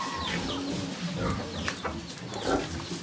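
Farmyard chickens clucking close by around feeding pigs, with a series of short clucks and squawks over a busy rustling background and no clear talk.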